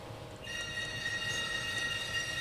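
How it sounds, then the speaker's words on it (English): A set of tuned sleigh bells on the Blackpool Tower Wurlitzer organ starts after a brief pause and holds a bright, sustained jingling shimmer at an even level, close and clear with no voices. "we have a set of sleigh bells"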